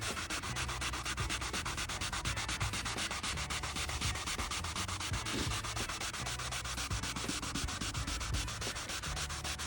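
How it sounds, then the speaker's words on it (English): Steady, continuous abrasive rubbing of wet sanding with a sanding sponge on paint, close up and unbroken for the whole stretch, with no talking. "as I'm wet sanding"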